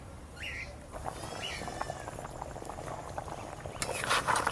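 Rupchanda fish kalia gravy with potatoes bubbling in a pan, a soft, steady simmering close by, with a few faint chirps and light clinks over it.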